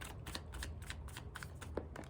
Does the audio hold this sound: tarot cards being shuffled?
yes